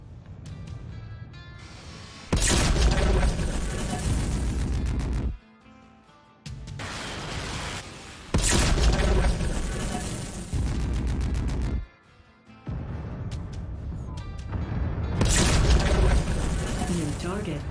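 Mech weapons in MechWarrior 5 set off loud, booming explosions in three or four long, heavy blasts, each rolling on for a couple of seconds over a rumbling mechanical background, with a voice speaking at times.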